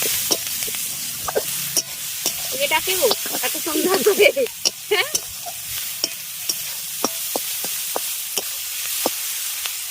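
Mustard paste fried and stirred in a pan, a steady oily sizzle broken by sharp scraping and spoon taps against the pan, while someone talks over it for a moment.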